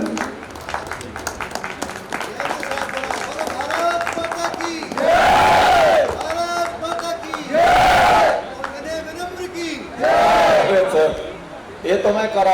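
Audience applause bursts out three times at a live performance of patriotic Indian songs, each round loud and lasting a couple of seconds, set between stretches of singing and music with a voice carrying throughout.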